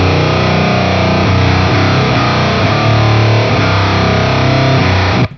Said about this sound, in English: a really versatile fuzz pedal that'll cover everything from classic guitar tones right on up through high gain